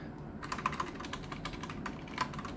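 Quick, steady typing on a Sharkoon Skiller SGK3 RGB mechanical keyboard with red switches, close up, with clustered keystroke clicks and a few sharper taps, heard alone.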